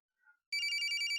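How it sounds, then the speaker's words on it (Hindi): A mobile phone rings nearby after a short faint sound, its bright electronic ringtone pulsing in quick repeated beats and cutting off abruptly. "फोन तो यहीं कहीं बज रहा है।"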